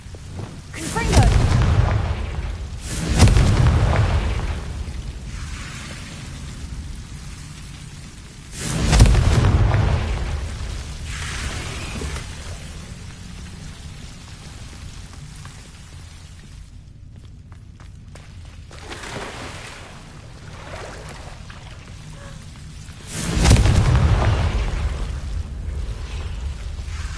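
Heavy booming blasts from a Confringo blasting spell in a Hogwarts video game land several times, each a deep rumbling thud that swells and fades, spaced apart with quieter ambience between.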